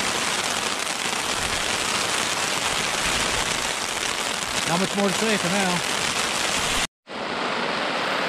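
Heavy rain drums steadily and loudly on a tarp on the Uintas Highline Trail, a dense close hiss that runs almost unbroken, with someone speaking briefly over it near the end.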